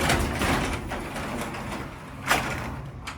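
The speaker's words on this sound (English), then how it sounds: "Open up that garage door." A residential garage door rolls open in a steady mechanical rumble, with a brief louder clunk near the end, heard alone and fairly close.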